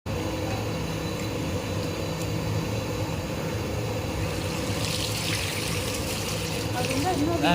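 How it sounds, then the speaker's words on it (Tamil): A pot of water boils steadily on the stove while cooking a rice dish, a constant rushing, bubbling hiss that stays even throughout. "தண்ணி நல்லா கொதிக்குது பார்த்தீங்கன்னா தெரியும்"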